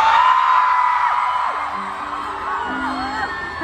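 A concert crowd in Bali whoops, yells and screams in a loud, sustained wash of cheering, with high shrieks rising above the roar throughout.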